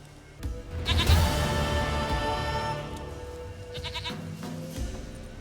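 A goat in The Witcher 3 bleats in a long, wavering cry that rises loud near the start and trails off, followed by a shorter second bleat, heard close with no talk.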